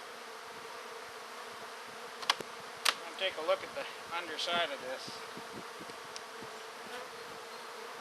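Honeybees buzz steadily in an opened hive with full-depth boxes during spring, a dense continuous hum with a few sharp clicks and knocks, while someone speaks briefly.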